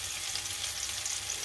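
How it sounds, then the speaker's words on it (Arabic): Onion sizzles in olive oil in a heavy pan for a chicken fajita, a steady close frying hiss with no voices. "So it starts sizzling."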